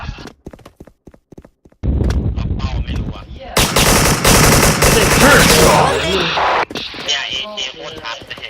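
Video game gunfire, loud rapid bursts of automatic fire that dominate the middle of the clip among scattered shots and impacts, with voices talking over the action.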